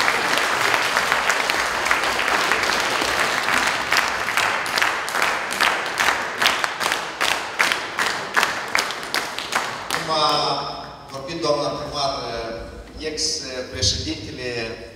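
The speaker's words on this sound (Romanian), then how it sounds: "Aplauze, doamne primar!" An audience at a village Men's Day celebration claps in a long, rhythmic unison round of applause that fades out before a voice begins speaking.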